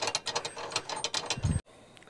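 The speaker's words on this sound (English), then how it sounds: "you can hand tighten this until it gets to the point where you have it snugged, and then you can put a wrench on it" A hand wrench ratchets bike rack hardware tight on a cargo trailer camper conversion, a run of close, rapid metallic clicks that ends in a heavier clunk, then near quiet.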